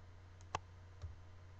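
A computer mouse gives two faint, sharp clicks about half a second apart while someone works in Photoshop, with a steady low hum underneath.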